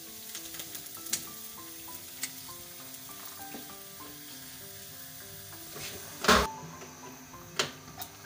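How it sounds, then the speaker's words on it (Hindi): Chicken sizzles and fries in a pan with browned onion and garlic-ginger paste, a steady crackling hiss broken by a few sharp clacks from stirring and one louder clattering scrape near the end. "अब हम इसके अंदर चिकन ऐड कर देंगे।"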